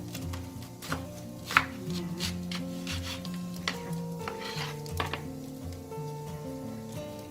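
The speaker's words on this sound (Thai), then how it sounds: "แล้วเราก็หั่นเลยค่ะ" Soft knife cuts slicing banana blossom tap against a board at an irregular pace, faint and close, with a low steady hum in the background.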